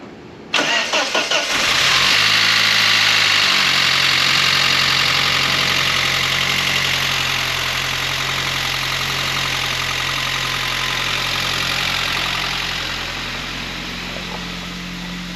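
A Saab 9-3 engine being overhauled cranks briefly, catches with a loud roar, then settles into a steady, fairly loud idle heard up close.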